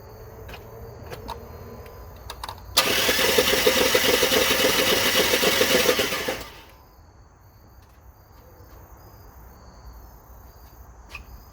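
Dodge Ram 1500 with a Hemi V8 cranking over: a loud, steady burst of starter and engine noise lasts about four seconds, then cuts off, leaving quieter background hum and faint insect-like chirps.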